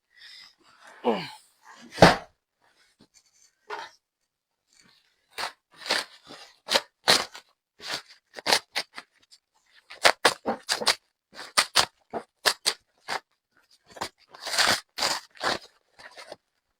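A heavy bundle of children's clothing stock is torn and unwrapped, giving a long run of sharp crinkling plastic rips, scrapes and rustles in close bursts with pauses between, and a voice speaking briefly at the start.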